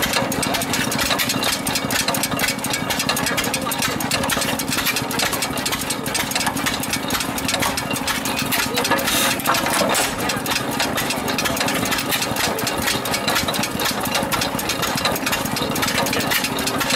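An old engine idles at an antique engine and tractor show in Bracebridge, Ontario, a steady, close chugging that runs without a break for the whole stretch with no talk.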